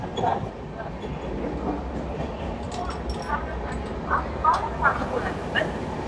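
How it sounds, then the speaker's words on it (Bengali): Loud, steady rumble and rattle inside a sleeper coach of the 12837 Howrah–Puri Superfast Express passing Santragachi, with periodic clanks over the rail joints and a voice talking over the din. "স্লিপারে জার্নি করার যে প্রচন্ড সাউন্ড প্রচন্ড সাউন্ড ট্রেন এখন ক্রস করছে সাঁতরাগাছি"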